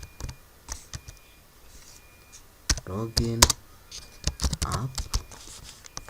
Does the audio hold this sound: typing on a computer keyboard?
yes